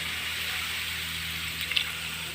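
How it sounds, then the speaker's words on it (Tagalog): Water pours into a cooking pan of chicken curry in a steady, close hiss and gush, with a small splash near the end and no voices. "Nilagyan ko ng tubig natin para maluto na siya"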